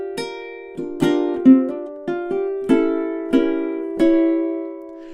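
Fingerstyle ukulele plays a spooky motif, plucked notes ringing out one after another with a slide up the fretboard, about eight distinct attacks in a slow, deliberate rhythm, close and alone.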